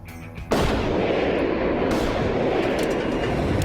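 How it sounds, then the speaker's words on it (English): Seven pounds of plastic explosive blasts beneath a Hummer in a crash-style test, a sudden loud detonation after a quiet lead-in, followed by a sustained roaring rumble that stays loud for several seconds. "whose underside was packed with 7 pounds of plastic explosive"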